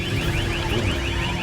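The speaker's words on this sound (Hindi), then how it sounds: "हर तरफ सायरन बज रहे हैं" Sirens wail across an Israeli city after rocket attacks, a loud rising-and-falling electronic tone that repeats in quick sweeps over a rough background roar.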